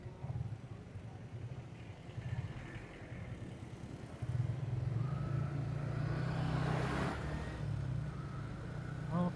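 Road traffic on a potholed, congested road with heavy-tonnage trucks, a continuous engine drone with a louder heavy-vehicle rumble building midway and passing hums, fairly distant and low in level.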